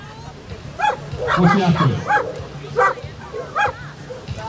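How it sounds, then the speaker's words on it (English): A young German Shepherd puppy in training gives several short yips and barks at close range, with a person talking between and over them. "She's a young German Shepherd puppy in training."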